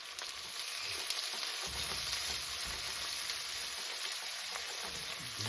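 Drained mushrooms sizzle in a pan for beef stroganoff, a continuous soft crackling hiss at moderate level, heard alone without any voices.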